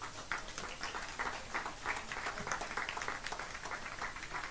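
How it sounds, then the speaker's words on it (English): Audience applause at a vegetarian community anniversary celebration, a soft, steady patter of many hands clapping at a distance, faint and continuous throughout. "Why not a big round of applause for them?"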